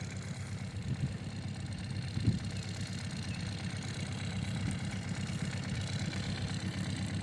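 A tractor engine drives a homemade plough while ploughing a field, holding a steady low chugging rumble at moderate distance throughout, with one brief louder thump partway through and no voices.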